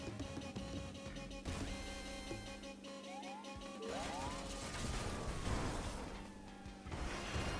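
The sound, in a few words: cement mixer running in a video game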